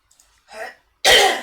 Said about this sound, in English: I'm sorry, I'm coughing everywhere.